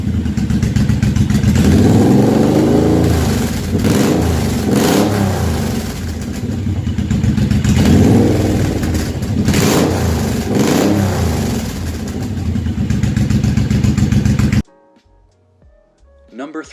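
A Suzuki M109R power cruiser motorcycle engine revs loudly in repeated surging waves, close and dominant, then cuts off near the end.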